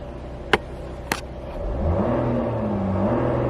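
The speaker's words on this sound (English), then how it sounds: "Let's give it a bit of revs and let's see how it sounds." A Porsche Macan S Diesel with a 3-litre engine revs up from a quiet idle, rising smoothly into a sustained mid-pitched hum, heard from inside the car after a couple of sharp clicks.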